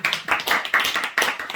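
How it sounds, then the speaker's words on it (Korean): A church congregation claps briefly, a short burst of several sharp, uneven hand claps close by, lasting under two seconds with no talking. "박수 한번 해주십시오"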